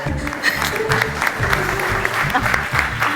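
An audience at a stand-up comedy show claps in a loud, dense burst of applause that stays steady throughout, heard from within the crowd.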